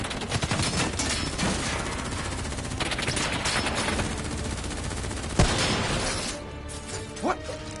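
Gunfire in a Black Ops 3 campaign battle, with dense, close bursts of automatic shots and a sharp crack partway through, under occasional shouted voices.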